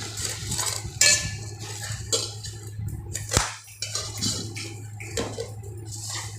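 Spoon stirring a masala mixture in a metal pot, with scraping and clinking against the pot in a steady series of strokes over a low background hum, with no talk.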